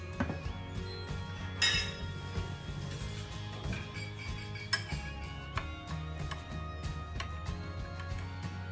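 Spoon clinking against a bowl while mixing chicken with soy sauce and cornflour, with light repeated clinks and taps over a steady background hum.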